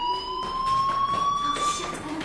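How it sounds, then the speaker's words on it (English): A fire alarm rings in Life Is Strange, a steady, piercing electronic tone that holds without a break under a faint indoor background. "Hey, do you hear that fire alarm?"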